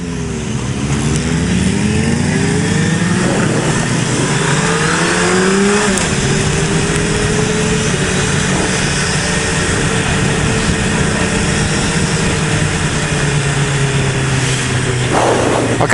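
A 2008 Suzuki Hayabusa motorcycle engine drones steadily while riding, with rising and falling pitch as it accelerates and shifts, loud and continuous alongside broadband road and wind noise.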